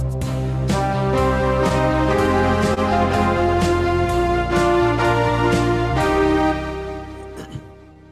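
Sustained organ chords with the 8-foot strings stop added, full and rich in tone, holding steadily and loudly before fading out near the end.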